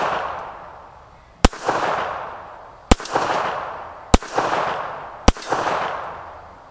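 Four sharp, loud gunshots from a Cobra F.S. .380 ACP pocket pistol ring out at an outdoor range, spaced about a second and a half apart, each followed by a brief echoing tail.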